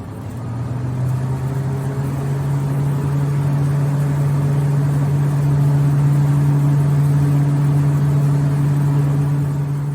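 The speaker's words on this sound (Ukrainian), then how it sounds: "Вмикаємо пушку. Починає запускатися цикл горіння." A Solveno RGAX heater gun starts its burner cycle with a steady, droning mid-pitched hum and an even motor-like tone that holds throughout.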